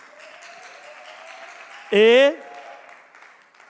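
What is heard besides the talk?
audience applause at a singing show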